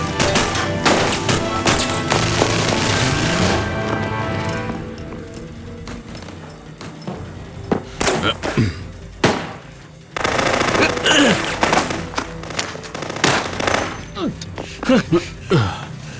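Automatic gunfire in a Hindi-dubbed war action movie: loud rattling bursts, a brief lull, then renewed rapid shots and sharp single cracks, with shouted voices mixed in.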